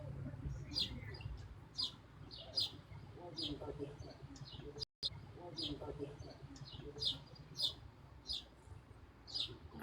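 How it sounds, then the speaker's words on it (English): Birds chirping outdoors on a hot day, with repeated short bright calls scattered through the clip over a steady low background hum. "Who's got birds in the background?"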